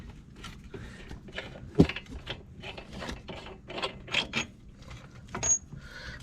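A hand wrench ratchets on the hub bolts of a 2010 Cadillac SRX, making a series of irregular clicking mechanical bursts that are close and moderately quiet, with short pauses between them.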